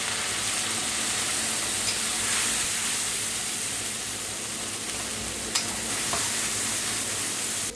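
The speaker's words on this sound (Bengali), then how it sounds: "এখন দিয়ে দেবো এই মশলাটা। মশলাটা সুন্দর করে ভেজে নেবো।" Spice paste sizzling steadily in hot oil with cumin for a Bengali-style egg curry, a loud continuous hiss close by, broken by a few sharp scrapes of the spoon against the pan.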